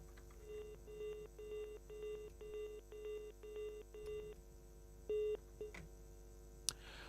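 A telephone keypad dials a quick run of about ten evenly spaced touch-tone beeps. After a pause come two more tones and a faint click, heard alone without voices.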